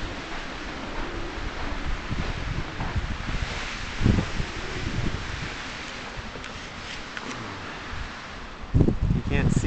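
Gusting wind roars through a snowstorm in steady broadband noise, buffeting the microphone with louder surges near four and nine seconds, while faint voices come and go beneath it.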